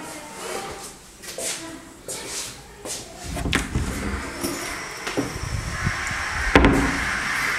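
A door in a brand-new apartment in Sants, Barcelona, is opened and closed nearby, with a clunk of the latch and handle, shuffling movement and a sharper knock near the end.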